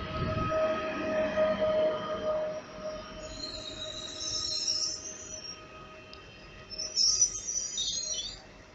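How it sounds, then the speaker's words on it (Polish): A train pulls out of Warszawa-Żerań station, its wheels giving a loud, sustained squeal with shifting high-pitched screeches over a low rumble of rolling stock. "Odjeżdżamy już ze stacji Warszawa-Żerań."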